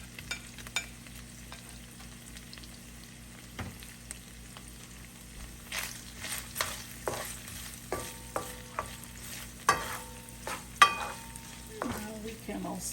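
Sausage dropped into a pan with baked bacon for a holiday hunter's stew, a faint sizzle under scattered clinks and scrapes as pieces go in and are stirred, with sharper taps near the end.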